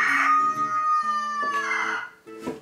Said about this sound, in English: This is what a rooster sounds like in real life.